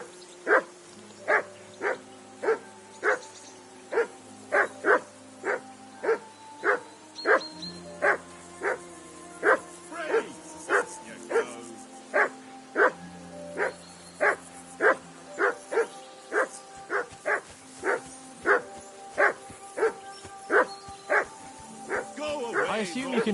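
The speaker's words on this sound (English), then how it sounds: "I assume you can hear that damn dog of yours barking." A dog barks repeatedly in the video game Kingdom Come Deliverance 2, a steady series of sharp barks at regular intervals over game background music, with voices talking alongside.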